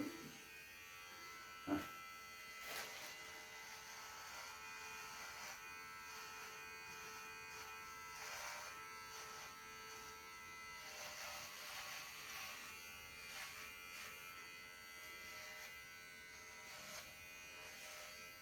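An electric shaver trims a beard up close, its steady motor buzz running unbroken throughout, with one sharp knock near the start.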